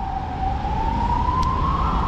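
Romanian fire engine siren: a loud, steady wailing tone sweeping slowly upward, heard close over road and engine rumble.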